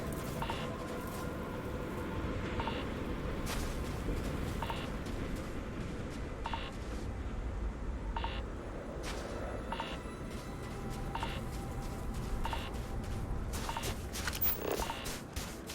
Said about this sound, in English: What is this beeping?